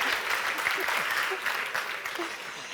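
Audience applause for Sébastien at the Grand Prix du Brand Content 2021 awards ceremony, a steady, dense clapping that fills the whole moment at an even level.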